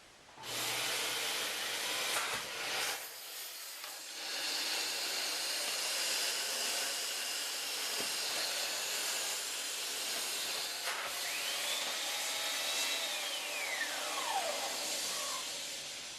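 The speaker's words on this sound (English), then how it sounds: "that's the result of the tremendous suction produced by the machine" A Dyson DC39 Animal vacuum cleaner runs on a tile floor with its brush bar off, a steady, loud rushing hiss of suction, holding constant throughout with a few brief knocks and shifts.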